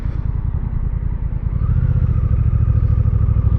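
A Honda Rebel 1100 motorcycle, 2026 model, pulls onto a highway under hard acceleration, its engine a loud close rumble with firing pulses that deepen and swell partway through as the revs climb.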